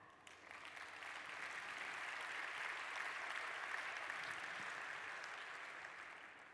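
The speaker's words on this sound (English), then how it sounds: "give a warm applause for our model" A conference audience at SuperNova 2018 applauding a model, a steady wash of many hands clapping that swells gently and holds evenly before easing at the end.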